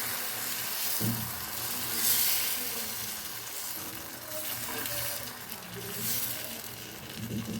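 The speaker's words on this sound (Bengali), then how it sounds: "ফ্রাই প্যানের মধ্যে তেল ব্রাশ করে দিয়েছি আর ব্যাটারটা দিয়ে দিচ্ছি" Batter poured into a brush-oiled frying pan sizzles steadily at low level, a soft crackling hiss with faint clinks of the ladle now and then.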